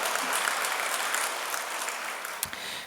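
Steady, enthusiastic applause from a congregation at a church worship service, offered as a blessing for newly welcomed members, dense and even throughout with one slightly louder clap near the end.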